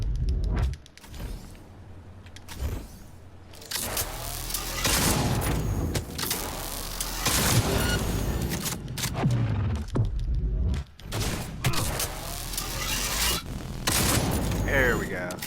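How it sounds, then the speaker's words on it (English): A shotgun in Cyberpunk 2077 fires in repeated heavy blasts during combat at Pacifica, booming reports spaced irregularly with rumbling between them, while someone talks over the shooting. "My favorite is actually the shotgun, so I'm going to show this a little bit."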